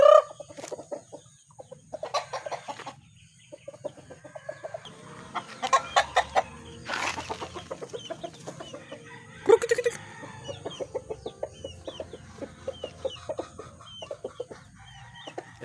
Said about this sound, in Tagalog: Ang ating hiraw na manok kumakain ng saging